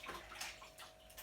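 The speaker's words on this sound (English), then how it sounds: "I'm just going to rinse off my hands." Tap water runs and splashes faintly over hands being rinsed in a kitchen while making a gluten-free vegan pie crust. It is a brief, soft, steady trickle.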